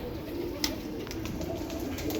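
A performer pigeon, a tamda breed, coos softly close by, a low, quiet murmur over faint background hiss with one small sharp tick.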